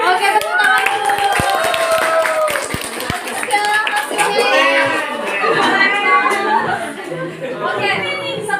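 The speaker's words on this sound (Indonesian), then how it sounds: "Oke, tepuk tangan dulu." Children clapping in a classroom, loud and close, with lively kids' chatter and voices running throughout, the claps blending into the busy room noise.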